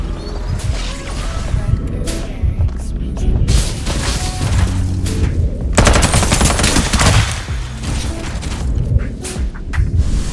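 Rapid automatic gunfire from the battle royale video game Farlight 84, dense bursts of shots with booming impacts running throughout, loud and close, with a brief spoken game voice line mixed in.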